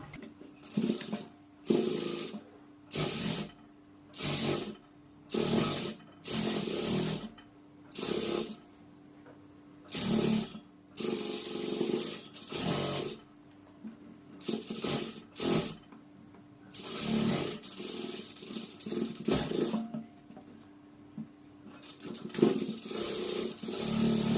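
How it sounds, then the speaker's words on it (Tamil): A sewing machine stitching a blouse runs in repeated short bursts, each a second or two of fast whirring separated by brief pauses, close and fairly quiet. "இந்த பீஸ் அப்படியே மடிச்சுட்டு மேலே வந்து தையல் போட்டுக்கலாம்"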